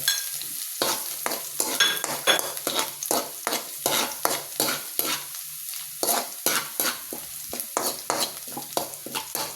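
Garlic sizzling and frying in a pan for chicken kinamatis (chicken with tomatoes), with steady hot crackle and repeated stirring strokes scraping the pan in a quick, regular rhythm, close and fairly loud.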